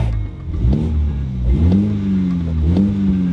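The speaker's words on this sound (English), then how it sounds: "So if I give it a quick rev" A 2020 BMW Z4 G29 roadster engine revved while stationary, three quick blips rising and falling in pitch over a steady idle, close and loud.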